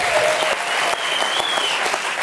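TV studio audience applauding a band on a talk show: loud, dense clapping from a crowd, continuous for a couple of seconds with a faint whistle or cheer riding over it.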